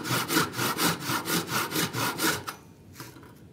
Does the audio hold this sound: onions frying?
no